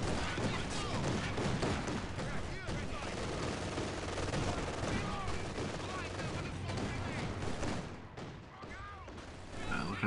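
Company of Heroes 2 battle gunfire rattles steadily, machine-gun bursts and single shots layered in a dense, continuous din that eases briefly near the end, with voices mixed in.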